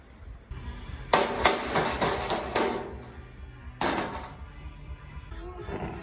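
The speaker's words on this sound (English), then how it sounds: "Okay, so the hammering worked pretty good. This rawhide hammer kind of was overall the best." Rawhide and rubber hammers strike the sheet metal of an e-bike sidecar in two close bursts of rapid blows, each a run of sharp metallic knocks separated by a pause, with faint background noise.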